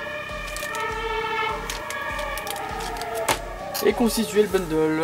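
Emergency siren from a passing ambulance or fire engine outside, a steady wailing tone running through the whole stretch, heard faintly beneath someone speaking indoors, with some handling clatter toward the end.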